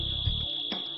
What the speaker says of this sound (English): A first alarm is sounded.